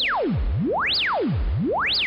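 A synth tone from a Soundforce Dual LFO triangle wave, sweeping smoothly up and down in pitch, like a siren rising and falling in even zigzags, about three sweeps, loud and alone.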